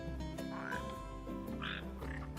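A red frog croaks repeatedly in Final Fantasy XV, deep throaty calls close and clear over a soft low background.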